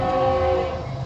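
A train horn blows steadily and loudly in downtown Conroe, Texas, where two railroads cross, sustained over the low rumble of the passing train for about a second.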